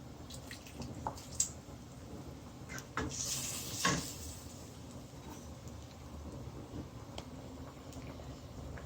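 Boiled chickpeas with their cooking water and masoor lentils are poured into a pot for Lahori chicken-and-chickpea curry. A brief splash and rattle comes midway, with faint drips and clinks around it and no talking.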